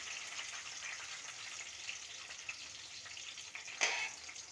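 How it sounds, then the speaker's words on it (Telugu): Onion dropped into hot oil with tempering spices and green chillies for a sweet potato curry, giving a steady soft sizzle with a brief louder crackle burst near the end, no voices. "ఇప్పుడు ఆనియన్ వేసుకుందాం."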